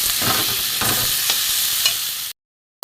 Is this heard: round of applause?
no